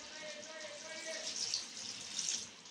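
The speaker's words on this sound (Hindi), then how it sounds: "और जो मैंने 1 गिलास पानी बोला था आपको वो डालेंगे हम" Water poured from a glass into a pot of beef biryani, a steady close splashing rush lasting the whole moment, with faint kitchen background.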